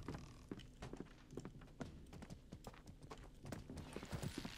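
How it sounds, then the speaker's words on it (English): Horse hooves clip-clop in a rapid galloping rhythm through a medieval town in the Mordhau combat game, fairly close and steady, with mixed battle noise around them and no talk. "I think they just rode a horse into town."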